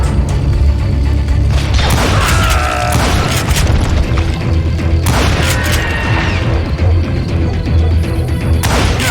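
Gunfire in the Western shooter game Call of Juarez Gunslinger: loud, heavy booming shots and crashes recur throughout against a dense, rumbling game soundscape.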